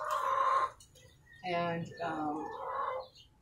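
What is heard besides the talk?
roosters crowing and clucking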